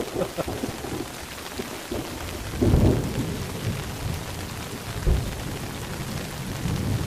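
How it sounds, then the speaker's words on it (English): Thunderstorm in the southern Missouri wilderness: steady rain falls on surfaces while deep rolls of thunder rumble through, with two heavier peaks near the middle and late in the stretch, no voices. "Where all the lightning and thunder's coming from."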